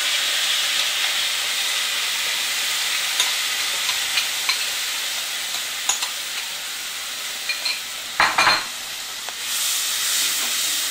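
Yogurt paste stir-fried in hot oil for a potato curry, a steady close sizzle and hiss with scattered clinks of a spoon stirring against the pan, no talk.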